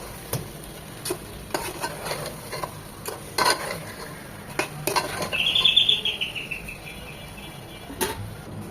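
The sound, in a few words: chicken being stirred and sautéed with spices in a pan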